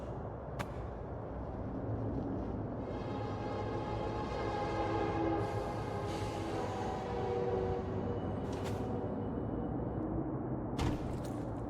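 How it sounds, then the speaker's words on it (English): Trains in the video game Paradise Lost give off a faint, distant low rumble with metallic grinding swells and a few sharp clanks, steady throughout with no voices. "Yes, possibly trains, possibly derailed as well."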